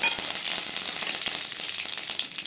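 Mustard seeds, cumin and curry leaves sizzling in hot oil for a cabbage kootu, a steady bright hiss with scattered tiny pops and crackles throughout, close and continuous with no talk.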